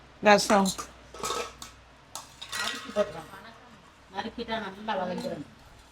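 A ladle clinks and scrapes in a pan while chicken and mutton are sautéed, with a few sharp metallic knocks coming through as people talk over the cooking.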